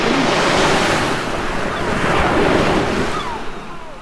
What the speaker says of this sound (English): It's the last time you'll hear the waves of Costa del Newton Aycliffe here on Crafters TV